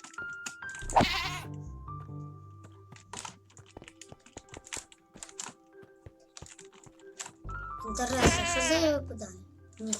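Two loud, quavering goat bleats in Minecraft, one early and a longer one near the end, with rapid keyboard clicking and tapping in between.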